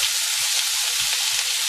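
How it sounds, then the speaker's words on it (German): Onions sweating in a frying pan over lowered heat, a steady close sizzle with a few soft low knocks of stirring, no voices. "Schön die Zwiebeln anschwitzen"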